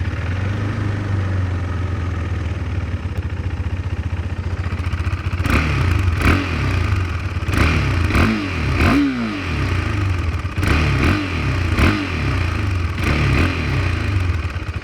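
A 2023 KTM RC 390 single-cylinder 370 cc motorcycle with its stock catalysed Euro 5 exhaust runs steadily and close, with a muted, vacuum-like drone and several sharp throttle blips and revs in the second half.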